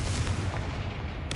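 A fiery Confringo spell in the Hogwarts Legacy video game blasts as a single loud, close, boomy explosion that fills the whole short moment with a rumbling roar.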